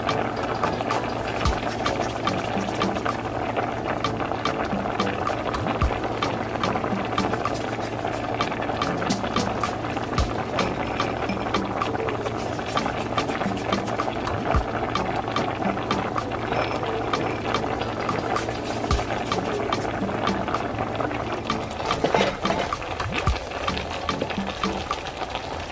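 A pot of Jamaican stew peas with beef and dumplings boils steadily and loudly, a continuous bubbling and crackling texture that carries on unbroken throughout.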